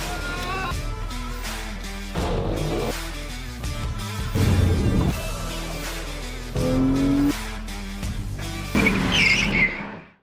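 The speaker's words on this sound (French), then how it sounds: "Et puis c'est parti pour le Maserati Levante GT." A Maserati Levante GT hybrid SUV drives in surging bursts, its engine rising and falling with brief tire squeals, loud and close over a steady background drone before it fades out at the end.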